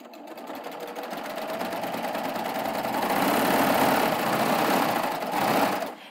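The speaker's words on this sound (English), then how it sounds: "And now what I'm going to do is I'm going to just stitch down my fabric." A coverstitch sewing machine stitches down fabric for a round project, a fast, steady mechanical whir that speeds up and stays continuous before easing near the end, close and clear, with no talking.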